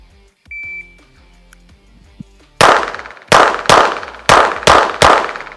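Loud pistol shots from a 1911 and a Glock ring out in quick succession, about six sharp cracks in two tight bursts after a stretch of near silence with faint beeps.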